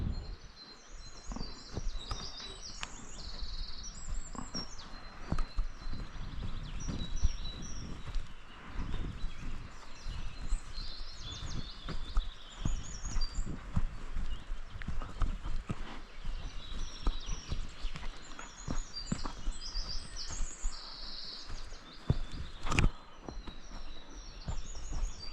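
A herd of cows moves off together across open ground near a river, their hooves giving soft, irregular clopping and shuffling while birds chirp steadily in the background.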